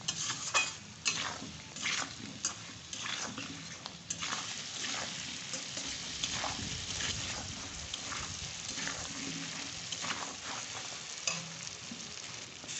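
Elephant foot yam with spices and chili powder being sautéed in a pan, an uneven sizzle with repeated spatula stirs and scrapes, moderately close, no one speaking.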